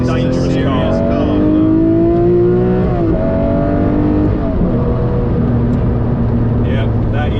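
Lamborghini Murcielago LP670-4 SV engine, a loud, close, deep drone that rises and falls in pitch as it revs, with a voice talking over it.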